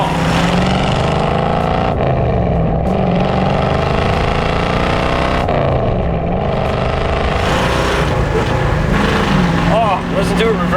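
Engine of a 1965 Ford Mustang accelerating in second gear, a loud, continuous rising drone that echoes off a nearby fence, with people talking over it.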